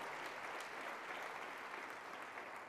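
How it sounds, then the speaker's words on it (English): Audience at a charity dinner applauding, a dense, steady clapping from a room full of people, somewhat distant and unbroken throughout. "Can we give her a round of applause?"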